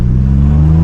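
A Daihatsu Charade Turbo engine pulls hard under acceleration, a loud, close, steady low drone with a strong hum and no voices, lasting under a second.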